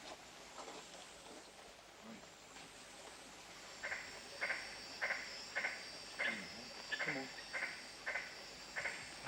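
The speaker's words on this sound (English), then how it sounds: "huge green frogs emerge from cracks in the rocks. Latoria splendida, the magnificent tree frog." Magnificent tree frogs (Litoria splendida) call at night from rocky ground near a camp in the Kimberley, a series of short, evenly spaced pulsing calls, moderately close, over a soft background hum.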